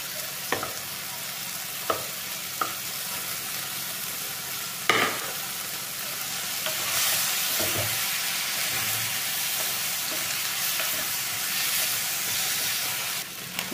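Green onion being stirred into cooking tomatoes in a pan, a steady soft sizzle and hiss with a few sharp utensil taps early on and a slight swell of frying noise midway.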